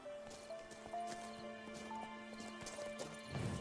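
Roach the horse's hooves clip-clopping in The Witcher 3, a steady run of soft, close hoof knocks over a bed of game music tones, with a faint whinny-like flourish near the end.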